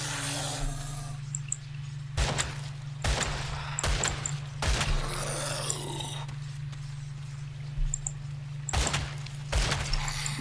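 Gunfire from the action game Grim Dawn cracks out in loud bursts: about seven sharp shots at irregular intervals, some doubled. A constant low electronic hum runs beneath them, with scattered game effects in between.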